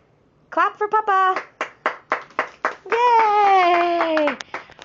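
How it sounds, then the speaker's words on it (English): A few family members clap for a grandfather's birthday, a short run of separate claps between loud, excited cheering and sung voices, all close by. "Clap for Papa."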